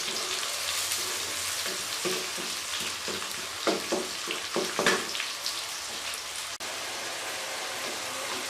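Tomatoes and onion sizzle steadily in a hot pan while a spoon presses and mashes them, giving a run of soft scraping taps near the middle before the frying hiss carries on alone.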